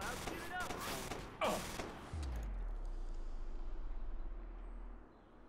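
A sharp sniper rifle shot cracks in Watch Dogs, followed by a deep, lingering boom that rumbles and fades, with someone talking briefly before it.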